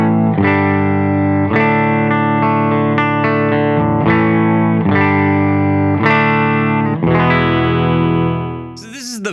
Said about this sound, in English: We're going to be running this Lockhorn Instruments zipper into a Silktone amp